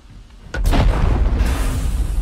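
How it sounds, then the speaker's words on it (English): A loud, booming explosion in the horror video game Still Wakes The Deep hits suddenly and rumbles on with a heavy, sustained low roar. "Explosion, dude."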